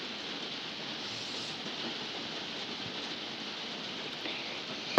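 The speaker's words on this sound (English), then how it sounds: "it's raining really badly where I live" Heavy rain falling outside, a steady, dense hiss that holds evenly throughout with no voices.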